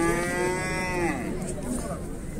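A heifer moos loudly at a livestock market, one long drawn-out call with rich harmonics that fades into a shorter second low, over a steady murmur of market background noise.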